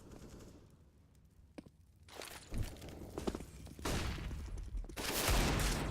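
Gunfire in CS:GO on the Cache map during a 2019 ESEA MDL Europe match, with a pistol among the weapons: scattered shots and thuds at first, then denser bursts of firing growing louder toward the end.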